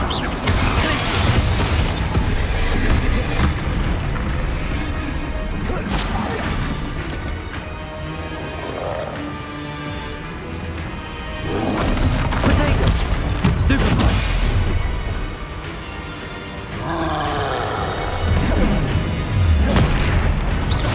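Spell blasts burst repeatedly in Hogwarts Legacy combat, loud booming explosions and crashes in quick succession over a dense, busy background, with a few brief shouted voices between impacts.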